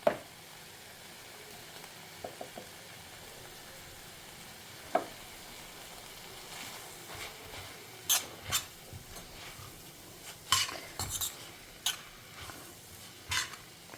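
Drumstick leaves frying in a pan, a low steady sizzle with intermittent scraping stir strokes that grow more frequent toward the end, moderately close and unaccompanied by talk.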